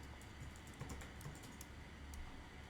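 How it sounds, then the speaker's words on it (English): Quiet typing on a computer keyboard, a steady run of soft key clicks under low room noise, with no talking. "I hear typing."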